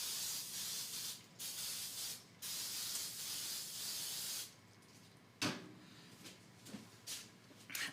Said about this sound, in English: So I'm going to get the 9x13 pan. Use your favorite non-stick spray.